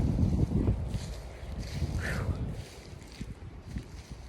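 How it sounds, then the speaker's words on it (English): Strong wind gusting across an open Georgia farm field where sheep and goats graze, loud blustery rumbles buffeting the microphone, rising and falling in waves. "It is definitely blowing out here."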